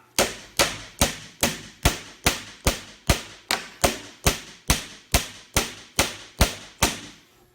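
A steady series of sharp, solid hammer strikes on a car body dent backed by a dolly block, about two per second, ringing briefly after each blow, close and loud with no talking.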